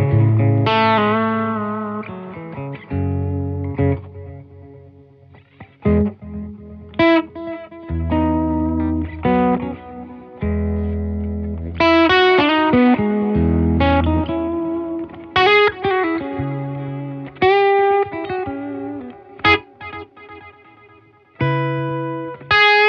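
Guitar played through a Keeley Halo delay pedal, picked notes and chords trailing into repeating echoes, with phrases starting and stopping and the delay tails filling the gaps, loud and close.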